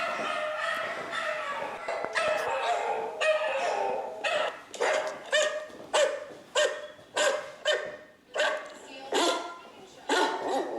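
A dog barks in a regular run of sharp, loud barks close by during obedience training, with a person talking between and around them.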